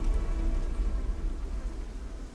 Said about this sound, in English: Dude, the thunder.